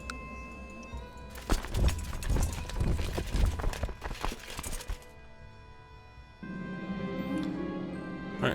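Horse hooves clip-clop in a Crusader Kings II medieval strategy game, a quick run of close, sharp hoof strikes for a few seconds, then fading into a soft steady background tone.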